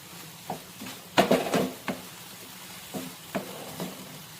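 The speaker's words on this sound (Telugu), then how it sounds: "ఇప్పుడు మనము కొత్తిమీర వేసి కొంచెం కలియబెట్టినట్టు చేసి స్టవ్ ఆఫ్ చేసేద్దాము" A spoon stirs a cluster bean and onion curry as it fries in a pan. The scrapes and clacks come close and fairly soft, in short irregular bursts, and one louder cluster of clatter sits over a low sizzle.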